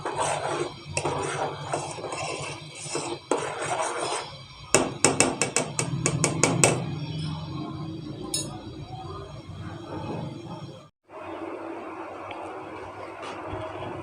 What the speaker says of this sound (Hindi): चम्मच की मदद से हिलाते रहें।